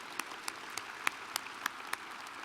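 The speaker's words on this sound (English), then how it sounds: "So a round of applause for your parents." Scattered, faint hand claps from a commencement audience applauding graduates' parents, a handful of sharp separate claps spaced apart over a quiet hum rather than full applause.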